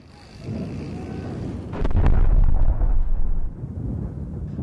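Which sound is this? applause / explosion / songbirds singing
explosion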